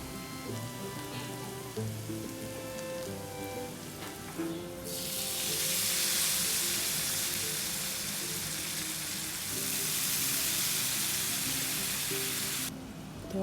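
Chopped onion fries in a pan with turmeric and cumin. A soft, busy sizzle swells into a loud, bright crackle for several seconds, dips briefly, flares again and then cuts off, with stirring noises underneath.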